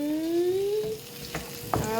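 Cherry tomatoes fry in a pan of spaghetti sauce with anchovies, giving a steady close sizzle with a few soft stirring clunks and a faint tonal whine running underneath.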